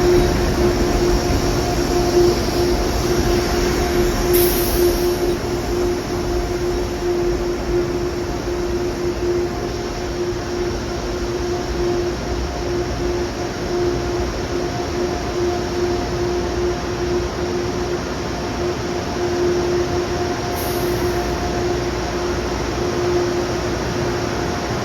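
A Heritage Unit train rolls past a nearly empty platform at Grand Central Station in New York, a steady, close rumble with a droning engine tone that holds evenly throughout, with no voices.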